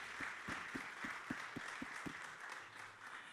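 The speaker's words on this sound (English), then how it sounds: "Can we have a huge round of applause for our first panelist for the day?" Applause from a conference audience greeting the first panelist at a hospitality leadership series, a steady wash of clapping with a row of evenly spaced low thumps running through the first two seconds before it thins out.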